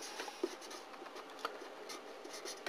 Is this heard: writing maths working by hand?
yes